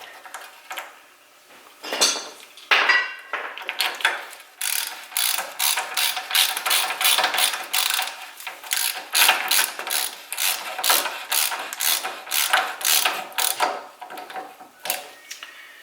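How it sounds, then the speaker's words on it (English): A Toyota tool tightening the rear axle bolt on a Toyota Land Cruiser 80 Series during a bearing replacement, giving a steady run of loud, rapid metallic ratcheting clicks at close range with no talk. "I got this Toyota tool right here for the axle bolt to help tighten it."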